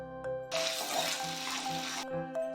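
Thickly sliced onion dropped into hot oil in a heated kadhai, a sudden close burst of sizzling that holds for about a second and a half before cutting off, with quieter kitchen sounds and a faint tone before and after.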